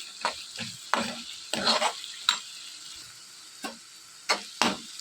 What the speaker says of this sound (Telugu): ఈ అల్లం వెల్లుల్లి పేస్ట్ మొత్తం కూడా పచ్చివాసన పోయి సువాసన వచ్చేంత వరకు కూడా వీటన్నిటిని బాగా ఫ్రై చేసుకోవాలి